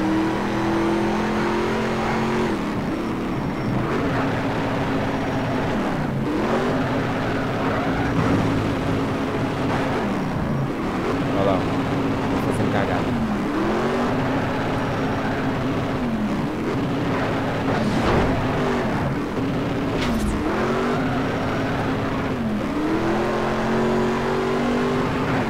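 Muscle car engine in Need for Speed Shift drift racing, a steady loud roar through the whole stretch with repeated rises and dips in pitch as the car shifts and revs, no talk over it.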